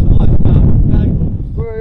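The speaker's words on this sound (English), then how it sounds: "windy day" Strong gusts of wind buffet the microphone in a low, rumbling roar at an outdoor bricklaying site, briefly easing toward the end.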